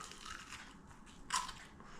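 A single crisp crunch of a bite into a fried onion pakora, short and close, against a quiet background.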